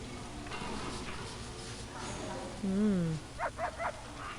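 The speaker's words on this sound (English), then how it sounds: "Oh, the dog. Did he find something in the food?" A dog in the prison-management game Prison Architect lets out a high whining, yelping run of sounds, then a few short sharp yips close together over a low background hum.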